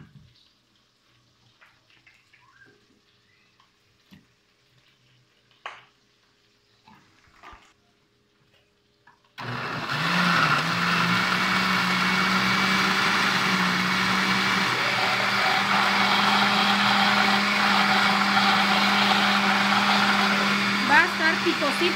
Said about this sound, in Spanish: el chile y los tomatitos en la licuadora.